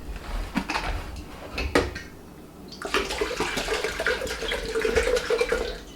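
Hot water poured from a kettle into a ceramic pour-over coffee dripper, a splashing, trickling stream that starts after a couple of clunks and keeps flowing steadily, close and moderately loud.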